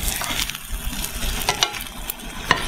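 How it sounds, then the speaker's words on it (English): An egg fries in a pan alongside tomatoes and onions, a steady close crackling sizzle with scattered small pops and stirring scrapes, no talking. "We're also frying the egg, even though it's cooking, it's still fried egg."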